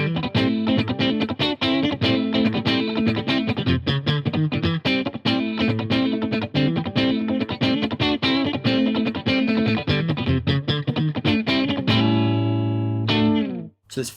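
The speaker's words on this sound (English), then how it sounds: "My favourite clean tones from this guitar is actually a combination of the split bridge pickup and the P90" Clean electric guitar, a Shergold Provocateur SP01 on split bridge pickup plus P90 in middle position, playing chords and picked notes steadily, bright and clear with a light shimmer, ringing out to a final sustained chord.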